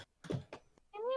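A person imitates a cat's meow, voicing a short drawn-out 'meow' with rising harmonics at the end, after a few thumps and bits of speech-like noise, fairly close and moderately loud.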